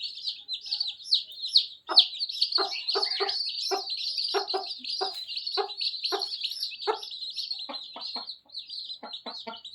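A hen clucks softly in repeated short bursts while her newly hatched chicks cheep continuously in a dense, high chorus close by, with no voices.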